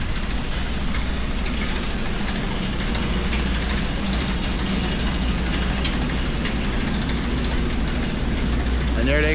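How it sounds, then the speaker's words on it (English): A 60 kVA generator set runs at a trail construction site in Kamikochi, a steady low engine drone holding constant throughout, with faint clicks and site noise over it. "there they got their gen set"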